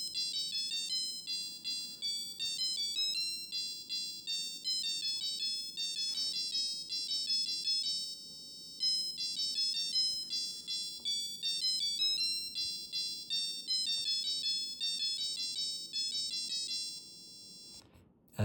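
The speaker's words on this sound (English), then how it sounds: "And that's Bach's Menuett." A Casio Melody 30 alarm module plays Bach's Menuett as a bright, beeping electronic tune, continuous and clear with steady melodic notes from start to end.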